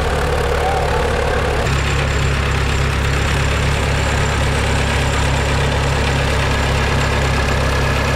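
A vintage Fordson E27N petrol-kerosene tractor engine runs steadily at a tractor pull in Colac, a deep continuous chugging drone that stays loud and close throughout with no voices over it.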